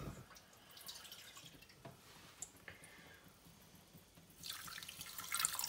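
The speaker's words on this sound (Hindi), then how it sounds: "और थोड़ा सा पानी ऐड करेंगे" Water trickles and drips into a cooking pot holding sugar while making syrup for homemade orange squash, faint and close, with soft patters building into a steadier pour near the end.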